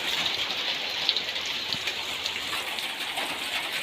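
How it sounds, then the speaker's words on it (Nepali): Steady rain falls on flooded rice paddy fields where seedlings have just been transplanted, a dense even hiss with scattered drop taps close by, no voices. "अझै पानी पर्छ र अलिअलि।"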